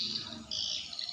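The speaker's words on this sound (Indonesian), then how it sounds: "suara walet yang ada di dalam gedung walet kita" Swiftlets call inside an enclosed swiftlet house, a continuous high, shrill twittering that carries on briefly at moderate volume with no voices.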